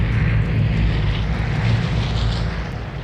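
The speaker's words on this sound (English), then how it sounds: "And now here comes the plane." An airdrop plane in the survival shooter Vigor drones overhead, a loud, steady low propeller roar that fills the whole moment with no speech.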